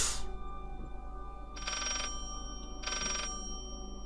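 A telephone bell rings in the video game Layers of Fear in two separate bursts, each about half a second long, over a steady low electronic hum.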